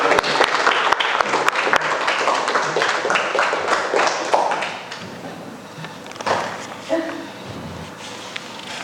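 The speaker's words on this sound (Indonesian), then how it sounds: "jadi bisa kita beri aplaus kepada kalian" Students in a classroom applauding together, a dense burst of clapping that fades after a few seconds into faint room noise and scattered taps.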